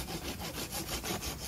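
A hand saw cuts through wood at a bushcraft shelter build, with quick, even back-and-forth rasping strokes, about eight in a row, close and clear with no talking.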